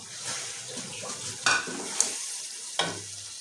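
Finely chopped red tomatoes drop into meat frying in a pan, a steady close sizzle with stirring scrapes and a few sharp clatters of the spoon against the pot.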